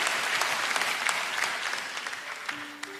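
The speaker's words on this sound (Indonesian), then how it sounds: "Boleh kasih tepuk tangan buat tim praise and worship kita." Church congregation applauding the praise and worship team, dense steady clapping that fills the room and begins to taper off toward the end.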